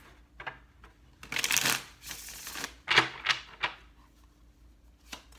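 Tarot cards shuffled close by, a few quick riffling bursts and taps, the longest in the middle, fairly soft with short gaps.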